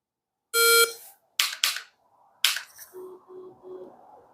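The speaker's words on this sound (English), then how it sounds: "Every time the buzzer goes off, we're going to get to 3 shots, and away we're going to go." A MANTIS Titan X shooting trainer sounds its electronic start buzzer, a loud tonal beep followed by a few sharp snapping clicks and softer repeated tones, alone in a quiet room.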